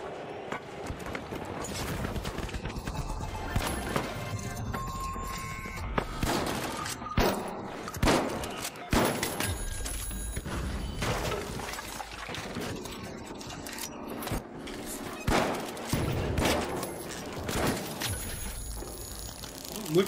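Gunshots in The Finals, with rapid cracks and bursts of fire scattered through a busy, loud game mix alongside footsteps and movement noise.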